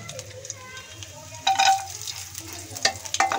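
Chopped nuts frying in a pan for a grape and orange chutney, a low steady sizzle broken by bright bursts of crackling and scraping as they are stirred.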